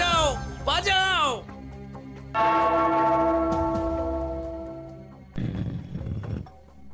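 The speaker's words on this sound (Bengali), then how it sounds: "ওই ঘন্টাটা বাজাও, বাজাও" A bell rings out in a single long, resonant toll that slowly fades, between bursts of excited voices and shouting.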